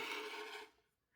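Scissors or a rotary cutter trimming excess quilt fabric, a close, soft rasping cut lasting about half a second before fading to quiet.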